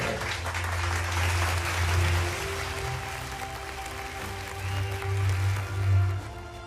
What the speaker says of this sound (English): let's give a big round of applause to all speakers and our moderator